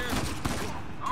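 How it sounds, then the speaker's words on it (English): Gunfire from enemies shooting in the action game Uncharted 4, a dense crackling volley running continuously throughout, loud and close in the game mix. "Where are they shooting us from?"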